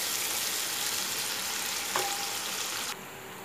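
Onions sizzling steadily in a hot pan as they are stirred until light brown, a continuous close frying hiss with a faint clink of the utensil partway through.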